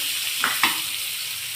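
Finely chopped onions and chillies fry with roasted cumin in a constant hissing sizzle, with a couple of quick stirring scrapes nearby.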